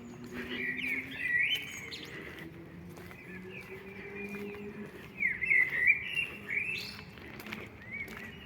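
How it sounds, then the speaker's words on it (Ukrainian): Birds sing and chirp in Kraków near garden flowerbeds, with repeated bright tweeting phrases at moderate distance over a quiet outdoor background, louder bursts toward the middle. "Як чудово співають пташки в Кракові."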